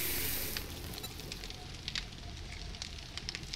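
Food cooking over a fire in the survival game 7 Days to Die, a quiet steady sizzle and crackle with scattered small pops, louder hiss at the start, no voices.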